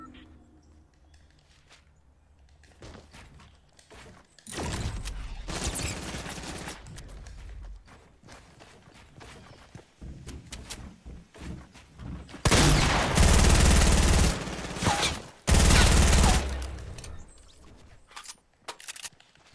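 Rapid bursts of Compact SMG fire in Fortnite, loud and dense around the middle and near the end, with gaps of quieter game noise and talk in between.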